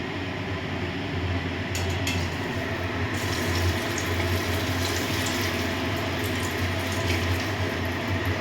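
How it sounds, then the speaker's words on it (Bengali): Bora fritters sizzle in hot oil with a steady, broadband frying hiss that runs unbroken. A few faint clinks of utensils sit on top. "আমি এখন ভাজবো বড়া।"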